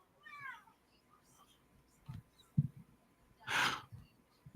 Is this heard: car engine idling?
no